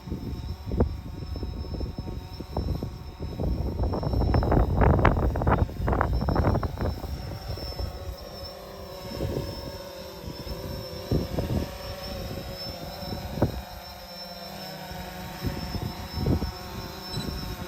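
An aircraft flying in windy conditions, with gusts buffeting the microphone and a steady high engine tone throughout. The blustery rumble is loudest early, then eases into quieter, intermittent thumps.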